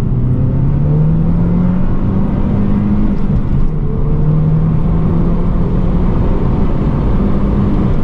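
A 2009 Mazdaspeed 3 engine pulls hard under full acceleration, a loud steady drone that rises in pitch over several seconds, eases briefly, then climbs again with no talking over it.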